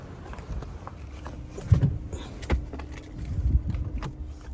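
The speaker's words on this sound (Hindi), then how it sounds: "गाड़ी अंदर लगाते हैं भाई पहले" A car is driven in and parked inside, with low engine rumble, scattered thumps and clicks, and a few louder knocks, all close by with no talking.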